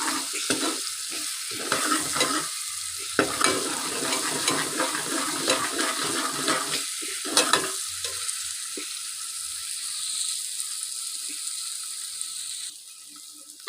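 Green chillies frying with softened tomatoes in a pan for dhaba-style masoor dal, a steady loud sizzle with intermittent stirring scrapes and clatter, close up and without talking.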